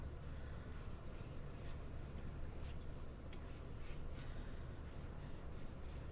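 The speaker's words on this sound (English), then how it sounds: "I'm going to draw some clouds" Pencil sketching curved cloud lines on paper for a landscape drawing: soft, faint, continuous scratchy strokes with a steady rhythm, close by, with no talking.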